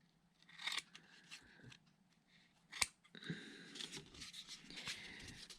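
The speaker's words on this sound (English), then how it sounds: "I'm just going to trim that so that it is going to lay neatly. So I'm going to trim close to the box." Scissors trim paper close to the edge of a craft treasure-chest box, with a few crisp snips early on, then a longer stretch of rapid cutting and rustling, close and quiet.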